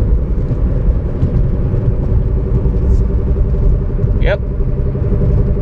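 Inside a moving 2003–2013 Toyota Corolla, a worn driver's-side wheel bearing adds a constant deep rumbling hum to the road noise, with a brief voice heard near the end.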